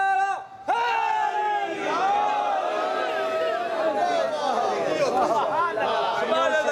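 A crowd at a religious gathering shouts slogans in unison, a loud massed roar of many voices that swells after a brief dip and stays sustained throughout.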